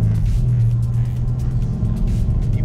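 A 2017 Mercedes-Benz C-Class Cabriolet with its smallest engine, driving near Trieste, Italy: steady low engine and road rumble heard from inside, continuous and fairly loud, with no voices.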